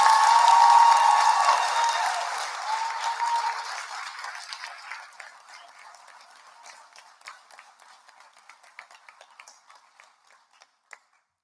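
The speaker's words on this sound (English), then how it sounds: "I'd like to ask for one more round of applause for our graduates" Graduates at the Clinton School of Public Service Class of 2024 commencement ceremony receive a round of audience applause that is loud at first, then thins and fades to scattered claps over about eleven seconds.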